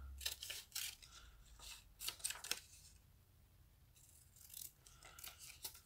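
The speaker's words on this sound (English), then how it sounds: "These scissors are hopeless." Scissors snip through paper while a cover is being cut out, a run of crisp, close cuts in quick bursts, separated by short pauses of rustling and handling.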